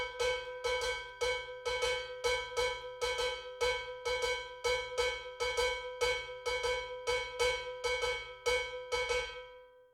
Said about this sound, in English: that's the Bembe cowbell, starting on the second measure with an even eighth note feel